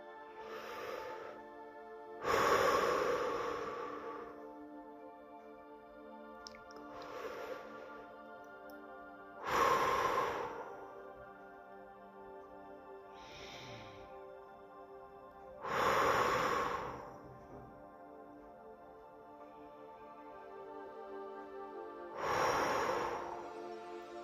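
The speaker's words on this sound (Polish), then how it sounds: "Weź kilka głębokich oddechów, rozluźnij ciało i poczuj, że jesteś tu i teraz. Oddychamy pięć razy." Slow, deep breathing over a calm meditation backdrop: five long, audible breaths spaced evenly several seconds apart, each swelling and fading, close and fairly soft, with no talking.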